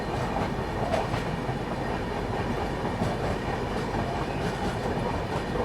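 The Narmada Express, an Indore–Bilaspur train hauled by a WAP-7 electric locomotive, rolls past close by with a dense, continuous roar of wheels and coaches and faint rhythmic clatter throughout.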